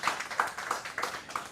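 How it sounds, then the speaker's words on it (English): Audience applause at a games conference closing session, a brief run of about five distinct claps, moderately loud and close. "Thank you very much for your round of applause"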